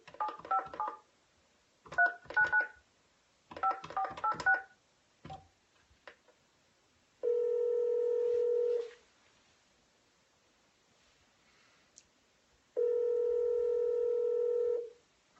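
Telephone keypad tones while calling prospects: three quick bursts of dialed digits in short clusters, a few faint clicks, then two long steady ringback tones separated by silence, close and clear.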